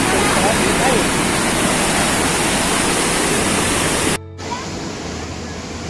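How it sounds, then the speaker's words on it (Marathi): Water discharged from the Girna Dam rushes with a loud, steady roar, as from a big surge pouring over a spillway. The sound cuts out briefly near the end and then continues slightly quieter. "आपण पाहत आहात धरणाच्या पांड्यावरून मोठ्या वेगाने वाहणाऱ्या पाण्याचे दृश्य"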